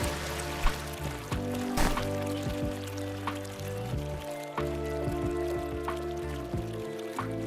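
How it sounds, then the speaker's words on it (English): A loud river in an indie video game rushes continuously with a pouring, trickling wash, punctuated by a few brief knocks and clicks. "That's a pretty loud river too."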